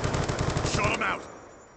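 Black Ops II gunfire rattles out as a rapid, evenly pulsing automatic burst, loud and close, with a couple of brief in-game effect tones near the end before it cuts off and fades.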